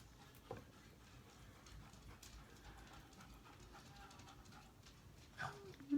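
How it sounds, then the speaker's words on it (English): A dog pants quietly nearby in quick, soft breaths, faint against a low background hum. "My dog is back and he's very loud and panty."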